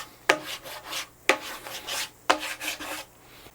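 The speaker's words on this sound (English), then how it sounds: "so we'll burnish that tape a little" Tape being burnished onto a guitar top during glue-up, heard as three evenly spaced rasping rubs, each opening with a sharp onset and fading over about a second, close and fairly quiet.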